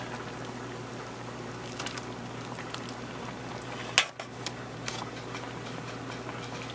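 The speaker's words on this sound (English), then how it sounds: "So what are you doing, just boiling them?" Pork chops simmering in a pot on the stove give a steady, soft bubbling wash with faint ticks, plus one sharp clink of a lid or utensil partway through.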